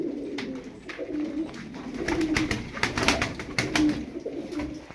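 Several pigeons coo in low, repeated throaty calls, with scattered wing flutters and clicks around them, fairly close.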